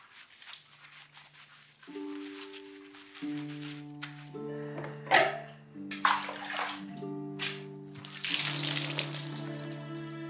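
Water splashing and pouring as a man is washed in a Turkish bath (hamam), with intermittent sloshes and splashes over sustained background music.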